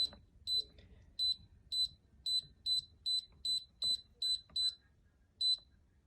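A series of sharp, high electronic beeps from a multi-cooker on its yogurt setting, about a dozen short tones in a quick irregular rhythm, then a final beep after a pause.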